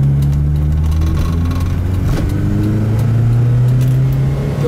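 A Volvo Bertone 262C coupé engine drones steadily while driving, a loud continuous hum with rising pitch as it picks up speed, mixed with road and cabin noise.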